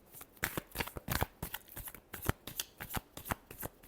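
Tarot cards being riffled and shuffled by hand in a quick series of crisp, papery bursts, close and clear with no talking.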